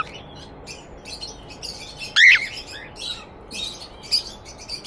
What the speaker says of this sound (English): if you can hear me over all this squawking